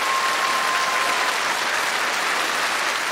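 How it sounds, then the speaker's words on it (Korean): Audience at a KBS folk-song variety show with Jeju residents claps in steady, dense applause that fills the space evenly from start to finish, with no voices on top. "여러분들의 노래를 아름답게 불러준 우리 감귤 아가씨 미인들과 가수 여러분들께 다시 한번 힘찬 박수를 보내주시면 대단히 고맙겠습니다"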